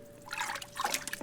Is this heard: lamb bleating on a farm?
no